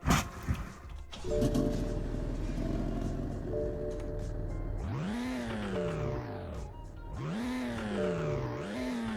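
A 2018 BMW M3 Competition engine starts with a brief crank burst, settles into a steady idle, then gives two sharp revs that swell and fall away, heard nearby with no talking.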